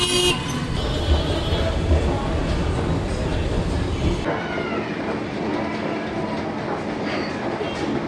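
A local train stands at a station platform, rumbling loudly nearby with a horn toot, before the noise drops to quieter platform ambience.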